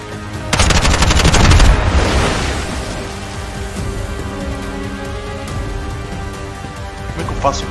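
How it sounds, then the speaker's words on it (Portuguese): Gunfire in the video game Bright Memory during a boat and canyon battle, a dense rapid burst of automatic fire followed by a continuous rattling, crackling din of combat, loud and close throughout. "Parei de falar um pouco porque tava muito barulho de tiro e a batalha tava tensa."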